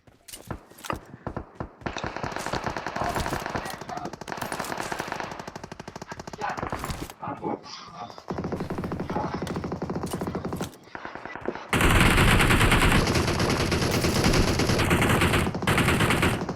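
Automatic and rapid gunfire from the mobile battle royale game BGMI rattles in dense, loud bursts, with a short gap and scattered shots before sustained firing that grows harsher and louder near the end.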